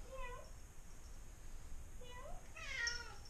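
A crow makes a few faint, drawn-out calls that sound like a cat's meow, with a low background hum.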